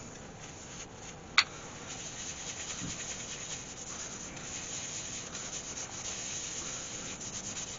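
Wax is pressed onto a spinning spalted ash bowl on a wood lathe, giving a continuous soft rubbing friction sound with one sharp click near the start, close and alone.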